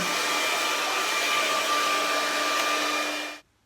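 A handheld hairdryer blows steadily to dry acrylic paint on a tiger painting: a loud, even whooshing roar that holds for over three seconds, then cuts off abruptly.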